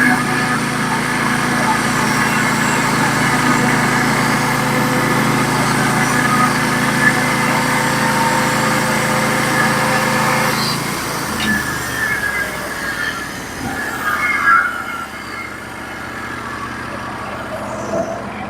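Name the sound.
Norwood HD36v2 sawmill cutting pine log slab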